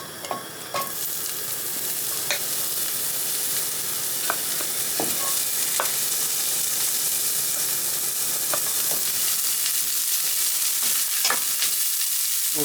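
Chopped, diced onions hiss in a hot pan with a loud, steady close sizzle that runs throughout, broken by occasional sharp pops and utensil taps.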